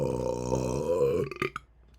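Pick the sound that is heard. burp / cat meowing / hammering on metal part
burp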